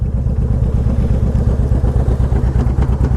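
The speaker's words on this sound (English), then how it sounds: "fires up good. It's got nice sounding exhaust." A Honda VTX 1800 motorcycle engine runs close by, its exhaust throbbing in an even, loping pulse at idle with no speech.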